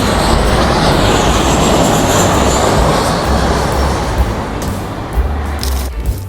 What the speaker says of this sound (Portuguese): Legal que dá pra gente ver o pouso dos aviões aqui.